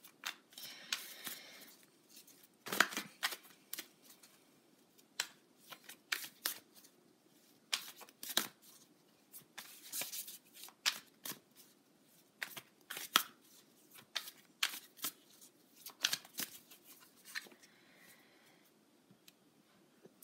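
Tarot cards being shuffled during a love and relationship reading: repeated dry riffling and flicking bursts of fair loudness, close by, in an uneven rhythm across the whole stretch, with no talk.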